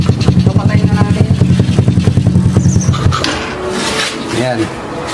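A motorcycle engine with a freshly repaired CDI runs at a steady, rhythmic throb for about three seconds, then drops back under clattering and other background noise.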